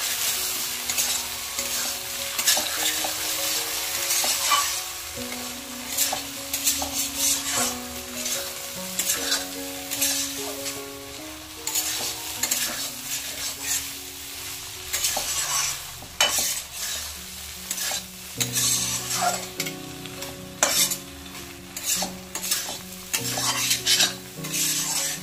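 Okra being sautéed for a prawn curry sizzles and fries steadily in a pan, with repeated scraping and stirring of a spatula against the metal throughout, fairly close and without talk.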